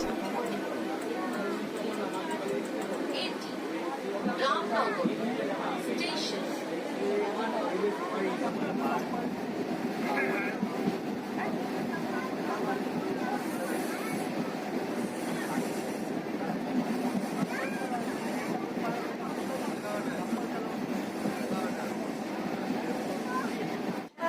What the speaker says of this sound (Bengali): আমাদের ট্রেন একশো একাত্তর কিলোমিটার পথ অতিক্রম করে রামনগর স্টেশনে ঢুকছে